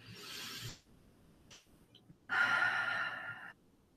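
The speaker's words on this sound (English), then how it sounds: "Deep breath in." Breathing during a guided relaxation exercise, a soft airy exhale trailing off, then a brief catch of breath and a longer, louder deep inhale through the nose, close to the microphone and with no talking.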